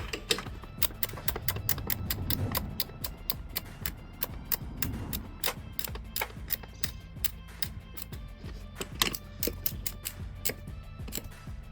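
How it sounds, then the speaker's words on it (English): A torque wrench tightening brake bolts on a 1981 Corvette: rapid, close ratchet clicks come in dense bursts, then thin out to sparser, irregular clicks with faint metallic clatter and no talking. "we're using the good old torque wrench for tightness here"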